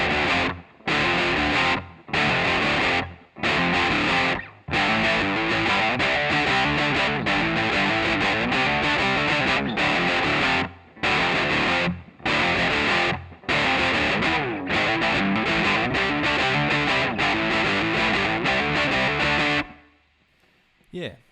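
Distorted electric guitar plays the low part of a song, loud chugging riffs broken by short stops, with no talking.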